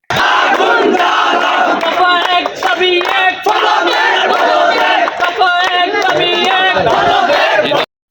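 Students at a protest rally on a college campus chant loudly in unison, a dense, continuous crowd roar with rhythmic shouted slogans sustained throughout.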